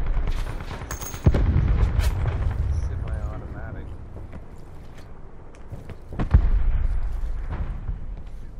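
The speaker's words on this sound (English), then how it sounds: "Got a purple rocket launcher" A purple rocket launcher fires in a video game, giving two heavy booming blasts several seconds apart, each with a sharp crack and a long low rumbling tail over a dull background.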